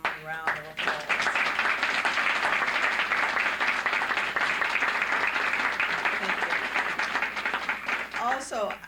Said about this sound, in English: let us give you a nice warm round of applause.